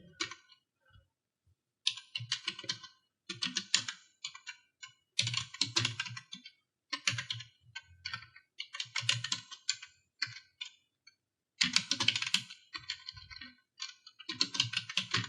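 Bursts of rapid keystrokes on a computer keyboard while a narration is entered into accounting software, clicking in quick runs separated by short pauses, close and clear with no talk.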